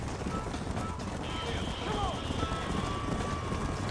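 A horse gallops with steady hoofbeats across open ground in the Western video game Red Dead Redemption, mixed with wind-like rushing and partly masked by someone talking over it.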